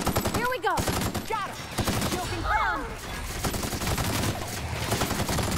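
Rapid automatic gunfire in the video game The Outer Worlds rattles in steady repeated bursts, close and loud, mixed with creature shrieks and game effects.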